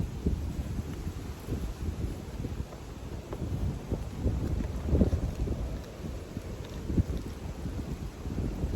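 Gusts of wind in a garden buffet the microphone with low, rumbling noise that swells and eases in uneven surges, steady throughout, with no voices.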